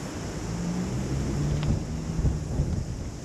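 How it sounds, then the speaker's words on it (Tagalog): Steady wind blows at Parliament House in New Zealand, a broad continuous low rumble with gusty swells and buffeting on the microphone throughout. "Mahangin lang guys."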